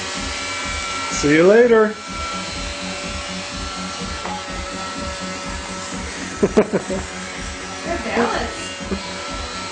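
A Roomba robot vacuum runs with a baby riding on top, its steady motor whir continuous under a voice, with a few bumps and a baby's squeal.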